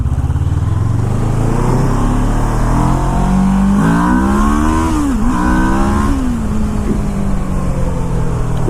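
A Kawasaki Ninja 650R motorcycle engine drones loudly and steadily, its pitch climbing as it accelerates, then dipping and rising again under constant wind rush.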